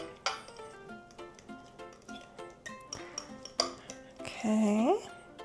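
Pancake batter ingredients are mixed in a bowl, giving a series of light clinks and taps of a utensil against the dish, with a brief scraping swell near the end.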